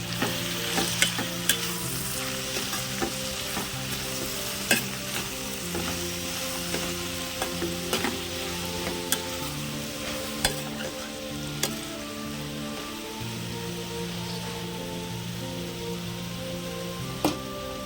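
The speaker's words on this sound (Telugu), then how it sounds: "ఇప్పుడు కలబెట్టుకున్నామండి" A broad bean and tomato curry, Andhra style chikkudukaya, being stirred as it fries in a pan, with steady loud sizzling and crackling throughout and occasional spoon scrapes, while background music plays underneath.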